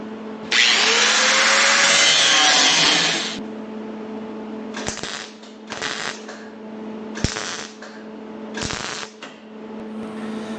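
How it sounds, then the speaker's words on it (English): A power tool cuts a metal section of a car body patch panel in one loud, sustained, harsh burst lasting a few seconds. Several shorter, quieter cutting bursts follow, each separated by pauses, against a steady low hum in a workshop. "So I'm going to cut this section here now"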